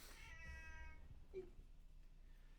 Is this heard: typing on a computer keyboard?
no